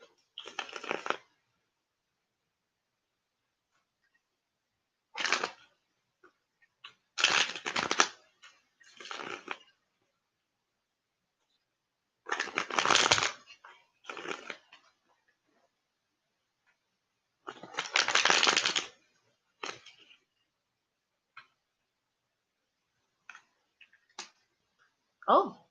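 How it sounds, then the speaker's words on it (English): Tarot cards shuffled by hand in separate bursts of crisp riffling and snapping, each lasting about a second, with long silent gaps between them and no talk. "So, I'm going to keep shuffling."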